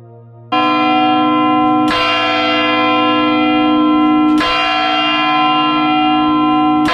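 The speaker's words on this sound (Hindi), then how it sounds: "और जब क्लॉक टावर में शाम के 5 की घंटी बजी" A clock tower bell at Bandel Church in Hooghly strikes loudly and near, three resonant chimes spaced a couple of seconds apart, each long ringing tone overlapping the next against a steady background hum.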